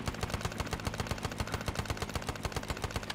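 Rapid automatic gunfire in the Vietnam-set Arma 3 video game, a steady fast burst of evenly spaced shots running loudly and continuously with no talk.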